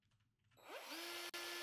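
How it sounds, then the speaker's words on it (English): A power drill in the game One Armed Robber spins up with a rising whine, then settles into a loud, steady high-pitched drilling tone with a brief cut near the end. "I'm drilling right now."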